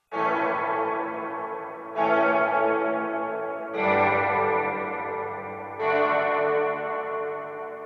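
A fully wet spring reverb from a Sonicake Pocketmaster, with no dry guitar: four washy chord swells, each blooming in and sustaining as a dense shimmering wash with a slight bouncy wobble, steady and loud.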